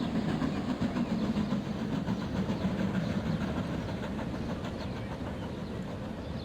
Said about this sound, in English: There we go, we've got a train coming by too.